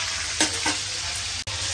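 Food sizzles steadily in hot cooking oil in a home kitchen pan, with a couple of brief scraping stirs early on and a constant frying hiss throughout.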